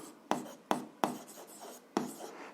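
Pen strokes on paper while writing out algebra work, four sharp taps and scratches at uneven intervals, close and faint, with no talking.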